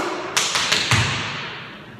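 Four crisp hand claps beat out a triplet count used to rehearse a tap dance double pullback step, close and dry in a quiet room, the last clap slightly heavier, with no talking.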